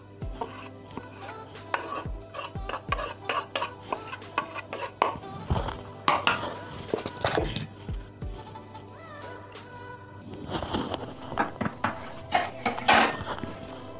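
Chicken shami kabab mixture being mixed by hand or spoon in a bowl, with irregular clinks, taps and scrapes against the bowl in uneven bursts, fairly close.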